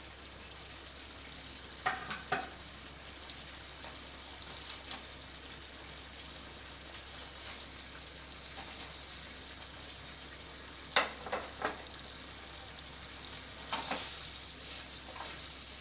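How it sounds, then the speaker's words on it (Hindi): Paneer stirs and fries in a kadai for kadai paneer, giving a steady low sizzle with occasional sharp scrapes and clinks of a spoon against the pan. No voices are heard. "अब मैं पनीर डाल रही हूँ।"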